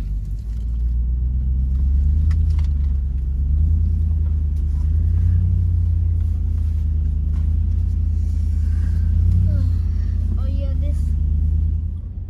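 A vehicle grinds along a rough, rutted off-road track in the Grampians, a steady loud low engine rumble with bumps and rattles throughout. A person speaks over it.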